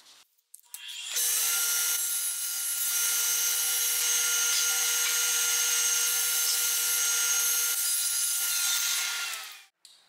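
Power saw cutting a wooden board against a stop block, a high steady whine that starts abruptly, holds evenly for about eight seconds and then cuts off, heard close with no talk.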